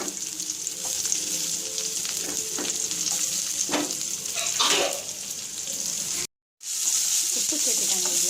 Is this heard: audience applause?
no